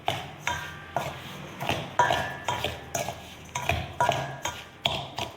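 Green gram rava being stirred with salt in a metal vessel for puttu, giving repeated scraping and clinking strokes at a steady rhythm, close and moderately loud with no talking.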